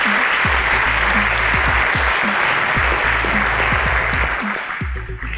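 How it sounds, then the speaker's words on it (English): A studio audience at a Lagos school quiz show applauds a qualifying high school team with dense, sustained clapping under a low musical hum, fading slightly at the end. "Round of applause for them."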